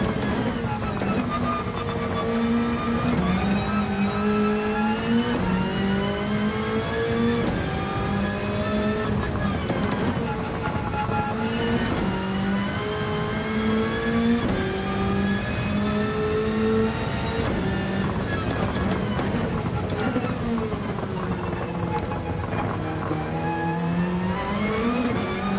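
Retro race cars in the Gran Turismo 7 video game roar continuously, engines rising and falling in pitch through gear changes and revs, loud and steady throughout.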